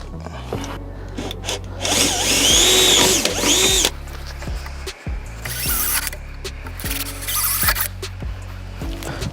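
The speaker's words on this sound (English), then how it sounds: "we will now drill them out." A power drill bores rivet holes into the sills of a Land Rover Defender in several loud, whining bursts separated by brief pauses and clicks.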